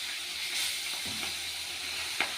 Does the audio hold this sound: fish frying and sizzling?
yes